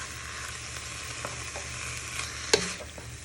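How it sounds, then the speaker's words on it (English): Chicken pieces frying in a pan for a Chinese chicken curry pie while a wooden spoon stirs them, a soft steady sizzle with light scrapes and one sharp knock, no voices. "Break them apart using your wooden spoon so they don't all stick together, and just keep moving them."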